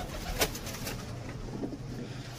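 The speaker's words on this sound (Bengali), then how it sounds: "এই যে বাইরে থেকে পায়রাগুলো ঢুকছে, এই যে ঢুকে গেল।" Pigeons coo softly around a loft as birds fly in from outside, with a brief flutter of wings near the start and steady low cooing through the short stretch.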